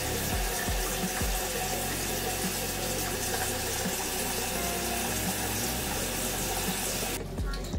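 Tap water runs steadily in a bathroom as it is added to a powdered green mud face mask, a constant close gushing stream that cuts off near the end.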